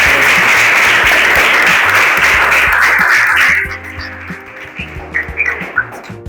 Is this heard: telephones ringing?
no